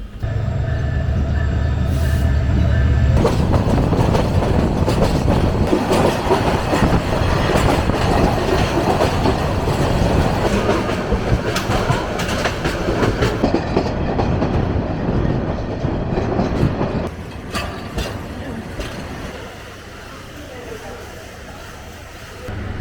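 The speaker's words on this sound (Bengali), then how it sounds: "অবশেষে আমাদের ট্রেন সাত নাম্বার প্ল্যাটফর্মে এসে দাঁড়াইল" The Burimari Express train rumbles loudly with rhythmic clickety-clack of wheels on rails, then slows and quiets as it halts at platform seven of a crowded station, with voices in the background.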